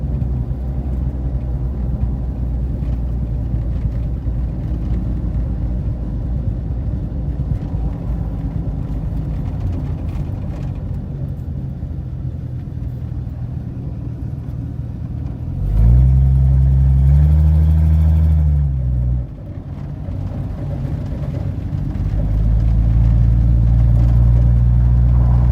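A 1982 Ford F-150 truck on a test drive with a worn, partly missing exhaust, its engine rumbling steadily at around 35 mph, then revving up in a loud rising surge near the end, with no talk.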